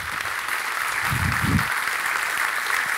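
Audience clapping in a steady, full round of applause for a friend, a dense continuous patter at moderate loudness with a couple of low muffled thumps partway through.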